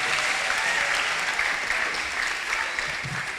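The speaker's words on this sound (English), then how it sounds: "Give them a better round of applause" An audience at an Easter music concert claps steadily, dense even applause throughout, fairly close and full.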